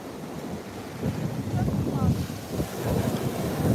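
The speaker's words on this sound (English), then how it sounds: "Give me a sound check because I know it's a little bit windy." Steady, gusty wind buffeting the microphone at a beach, a low roaring rumble that swells louder partway through, with faint surf-like wash beneath.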